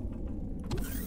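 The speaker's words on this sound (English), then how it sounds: "I heard somebody open a door." In the space survival game Empyrion, a door opens with a short mechanical creak and whir that swells near the end, heard alone for about a second over a low steady background hum.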